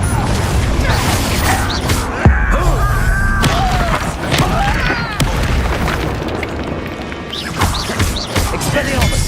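Confringo fire spell explosions in Hogwarts Legacy: several loud booming blasts and crackling bursts land among energetic combat effects and music, with a heavy impact near the middle.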